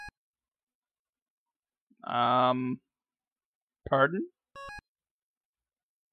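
Beeping speech sounds from the video game Yume Nikki 3D: a warbling electronic burst, then a shorter chirp and a brief tone, set apart by silence, with a person speaking nearby.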